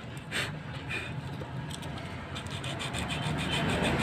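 A car battery clamp is scrubbed clean with steady, close rubbing and rasping strokes that repeat in a quick rhythm and grow a little louder toward the end.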